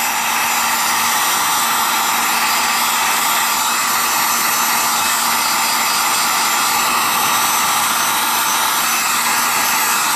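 Heat gun blowing steadily at a knife sheath held about three inches away, a loud, even roar that runs unbroken throughout with no talking.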